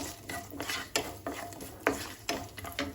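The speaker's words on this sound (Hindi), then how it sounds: "2 हरी मिर्च ली है और अच्छे से मिला लेंगे इनको।" A spoon stirs garlic, ginger and green chillies in a metal pot, producing a quick series of close, uneven scrapes and clinks of utensil against metal.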